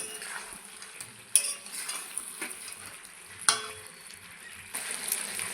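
Chicken sizzles with spices in a pan while a spoon stirs it, a steady fry punctuated by scraping knocks of utensil on metal every second or so, close up with no talking.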